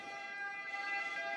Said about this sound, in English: ambulance is going through.